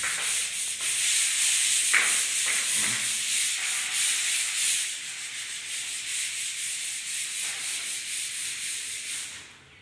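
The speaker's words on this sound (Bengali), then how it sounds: "আমাদের দাদা দেয়াল ঘষে লেভেল করছে" Wall putty being sanded by hand to level a room wall before painting: a steady, loud abrasive scraping of paper over the wall that continues throughout and eases off slightly toward the end.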